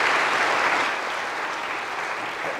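An audience applauds to welcome a guest at an interview event, a dense steady clapping that fills the whole moment at close range, with no speech.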